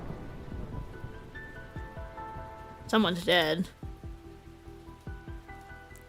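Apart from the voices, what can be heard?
rain in Arknights video game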